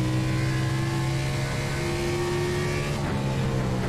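A race car engine in a racing video game drones steadily at high revs, with a brief dip and shift near the end, loud and continuous with no talk.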